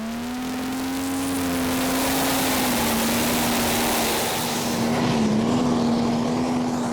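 A pulling tractor called Booker Bruiser at a Danish tractor pulling championship round in Frederiksund, its engine holding a loud, steady, high-revving drone that wavers slightly near the end, with no voices heard.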